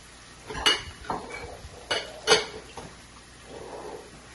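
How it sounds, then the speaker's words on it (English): Green onion, brown onion and small vegetables sautéing in a pan while a utensil stirs them, giving several sharp metallic scrapes and clinks in separate bursts over faint background sizzle. "I'm gonna let this saute for just a little bit"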